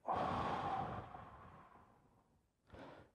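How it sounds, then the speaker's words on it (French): A single deep breath taken during a guided breathing exercise: a long, audible exhale that slowly fades, followed by a shorter breath near the end, close and quiet with no talk. "on va faire une respiration"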